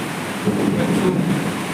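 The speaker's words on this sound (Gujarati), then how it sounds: "એટલો જોરમાં વરસાદ આવે છે અત્યારે" Heavy rain with a low rolling rumble of thunder during an engagement ceremony gathering, a dense, steady wash of sound lasting under two seconds with no voices.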